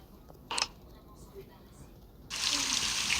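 A shower starts running in a home bathroom after a brief click, settling into a steady, fairly close hiss of spraying water that continues to the end.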